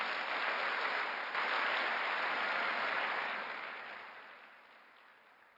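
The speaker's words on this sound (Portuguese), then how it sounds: "Dá um aplauso a Jesus." A congregation at a Sunday church service applauds in a dense, loud burst of clapping that holds steady for a few seconds and then gradually fades away.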